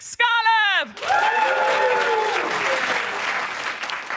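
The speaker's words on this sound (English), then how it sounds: "Please give a warm round of applause" A loud vocal whoop opens, then a comedy-event crowd bursts into sustained clapping and cheering that stays strong and full to the end.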